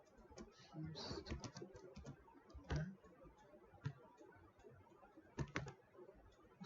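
Quiet typing on a computer keyboard: irregular bursts of close, light key clicks with a few sharper taps and short pauses between them, over a soft room background.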